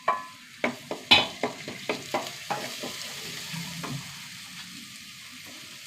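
Crushed shallots, ginger and garlic fry in oil in a pan with curry leaves. A steady sizzle runs throughout, broken by a regular series of sharp stirring clanks in the first half that grow fainter later.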